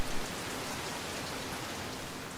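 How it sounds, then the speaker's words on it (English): Heavy, loud rain pours steadily throughout, a dense unbroken hiss with no other sounds. "That rain is loud."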